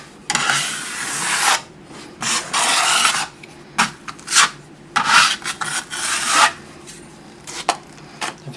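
A trowel scrapes a rough coat of joint compound over tape on a cracked plaster wall, with long loud rasping strokes followed by shorter, choppier passes, close up and with no talking.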